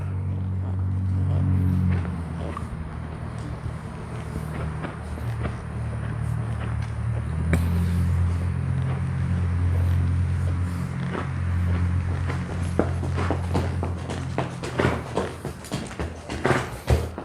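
A ridden horse walks on a hard surface, leaving a steady run of hoof clops, with hoofbeats sharpening toward the end over a constant low hum.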